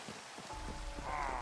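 Rain falls in the video game Minecraft at night, a soft steady patter that swells slightly over a faint background tone.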